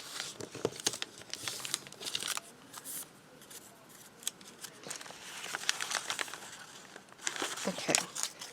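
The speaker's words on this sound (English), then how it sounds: "I'm just going to fold this in half." Paper and junk-journal scraps crinkle and crease as they are folded in half, quiet close rustling in bursts with soft pats and handling noises between them.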